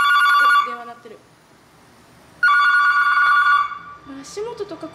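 A telephone rings in two long electronic bursts separated by a pause, heard during a night visit to a reputedly haunted spot, with people talking nearby and after the ringing.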